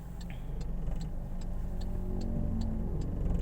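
A manual car idles in first gear on an incline as the clutch is eased toward its bite point, a steady low engine drone with a faint rhythmic ticking running through it.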